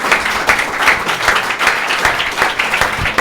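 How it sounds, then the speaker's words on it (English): A conference audience at a tech panel gives loud, sustained applause, a thick, close roar of many hands clapping at once that stays strong from start to finish. "now give them a big round of applause"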